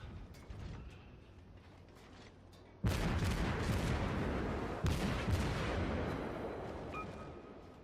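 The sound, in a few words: Omaha cruiser firing high explosive shells, World of Warships video game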